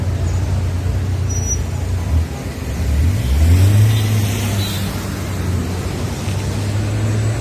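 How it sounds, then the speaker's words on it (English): Street traffic in San Gil, Colombia, with a car engine accelerating past at mid-distance amid a continuous roadway rumble, loud and steady without talk. "Traffic picking up a little."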